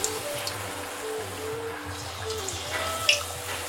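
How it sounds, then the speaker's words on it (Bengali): Potato chops (Kolkata-style alur chop coated in gram-flour batter) frying in hot oil, a steady low bubbling sizzle throughout, fairly quiet, with a brief sharper crackle near the end and no voices. "কয়েক সেকেন্ড পর তুলে রাখা চপ দুটো তেলে পুনরায় ছেড়ে দিন।"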